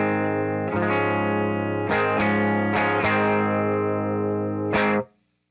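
Electric guitar played through the top boost channel of a Vox AC15 valve amp with the volume turned up, ringing sustained distorted chords with several fresh strums and a little hum beneath, alone and up close, cutting off abruptly at the end.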